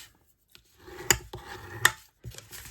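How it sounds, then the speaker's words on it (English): Scored cardstock is creased with a bone folder in a few short rubbing strokes with light rasping, punctuated by two sharp taps, close and fairly quiet with brief pauses between. "using a bone folder so they fold nicely"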